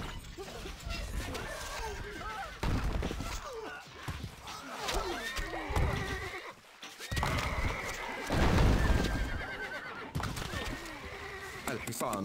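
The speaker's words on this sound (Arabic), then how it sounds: "الحصان سريع." A horse in the medieval strategy game Stronghold: Crusader neighs and whinnies repeatedly over quick clip-clop hooves, with game voice lines spoken over the loud, busy mix.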